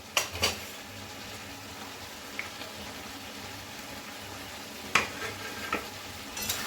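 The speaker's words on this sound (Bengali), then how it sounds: "তো সবগুলো একসাথে আমি মিশিয়ে নেব।" Jackfruit, fried potato, onion and prawns sizzle steadily in a pan as a spoon stirs them, with a few loud scraping knocks against the metal at the start and near the end.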